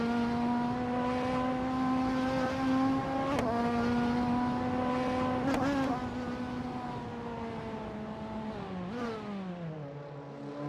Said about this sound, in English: Deluxe Combo is steering a 1993 Peugeot 405 and currently holding the 4th position